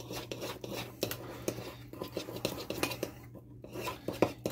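A spoon scrapes and clinks steadily around a container while a thickening prison drink mixture is stirred, a close, rhythmic rubbing with light metallic taps and a low steady hum underneath.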